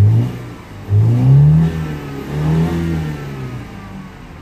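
A BMW E90 320i with a rough idle and poor accelerator response is revved during a throttle body test. The engine idles unevenly, then climbs in two distinct, close revs that rise and settle back, with no talking.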